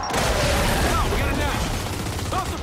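Loud, sustained rapid gunfire from the Gears 5 shooter video game fills the clip with heavy bursts and booms, while a voice speaks over the shooting.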